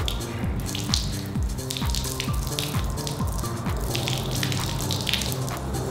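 A wet washable area rug is wrung out by hand outdoors, giving a steady rush of water with dripping and splashing that lasts throughout, close and fairly loud, with no talk.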